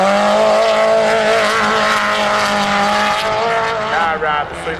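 A Subaru WRX race car at a time attack event, its engine droning loud and steady with harmonic tones that rise and shift, partly covered by a commentator talking over it.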